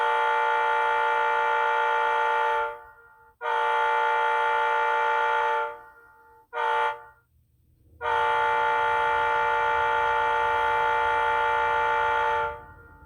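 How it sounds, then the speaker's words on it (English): A BNSF-style horn on a Scaletrains C44-9W model locomotive sounds in four bursts, three long steady blasts and one short one, loud, harmonically rich and unaccompanied, with brief silences between them. "So we'll go ahead and play the BNSF horn first."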